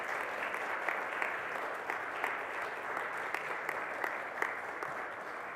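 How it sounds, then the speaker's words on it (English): Steady audience applause at a history lecture, a dense even patter of many hands clapping at moderate distance, sustained with no voices over it. "Let's give them a round of applause."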